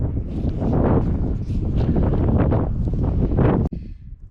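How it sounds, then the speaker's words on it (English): Strong desert wind buffets the microphone in loud rumbling gusts near Wagon Canyon, then drops away abruptly just before the end. "Sorry about the wind."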